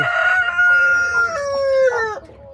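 A hen, recently recovered from illness, clucks while a rooster crows in a long, rising then falling call, close and fairly loud, with no talk over it.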